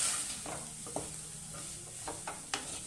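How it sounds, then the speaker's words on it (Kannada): A soft, steady sizzle of grated coconut frying in a pan, with a few light scraping stirs now and then, and no voices. "ಕಾಯಿ ಫ್ರೈ ಮಾಡಿಕೊಂಡು"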